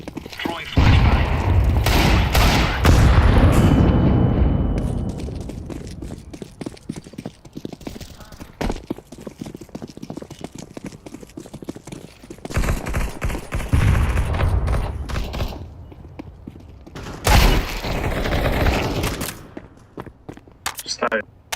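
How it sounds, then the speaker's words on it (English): Grenade and incendiary explosions in Counter-Strike 2, loud booming bursts in clusters at the start, midway and near the end, mixed with gunfire and clattering game noise, with quieter stretches between. "Throwing a grenade. Incendiary out. Grenade. Throwing flashbang."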